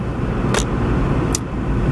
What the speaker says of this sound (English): I'm driving now on my way to Porthcawl